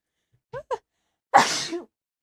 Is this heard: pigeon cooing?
no